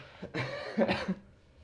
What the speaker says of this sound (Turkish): biraz öksürük var nedenini bilmiyorum